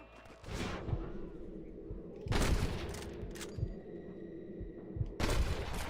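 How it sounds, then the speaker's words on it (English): Gunfire in the Red Dead Redemption video game on PS4, with loud bursts of several rapid shots around the first, third and fifth seconds and scattered single cracks between them. "I can hear more gunshots."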